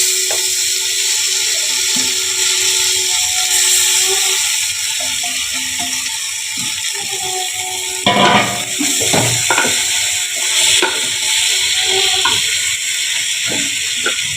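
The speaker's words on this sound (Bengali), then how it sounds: "চালগুলো এবারে আমি দিয়ে দিলাম।" Rice is tipped into a hot pot with cinnamon and cardamom for basanti pulao and sautéed, giving a loud, steady sizzling hiss broken by scraping and stirring noises partway through.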